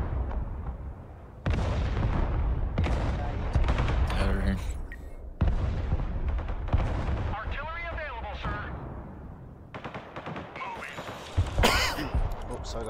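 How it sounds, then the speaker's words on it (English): Artillery fire in the video game Broken Arrow during a 5v5 multiplayer match: repeated heavy booms and crackling blasts over a dense battle din, with players talking throughout. "I don't know where artillery's firing from."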